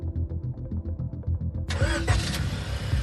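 Car engine cranking with a rhythmic starter churn, then catching and firing up into a louder, brighter roar, heard up close.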